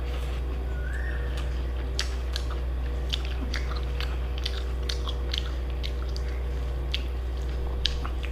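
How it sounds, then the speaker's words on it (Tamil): Someone eats drumstick leaves mixed with dried fish curry, close wet chewing and smacking bites repeating irregularly over a constant background hum. "இப்போ சாப்பிட்டு பார்ப்போம்."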